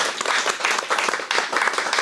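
Audience applause at the close of an interview with a short-film producer, a dense steady burst of many hands clapping that fills the short stretch without pause.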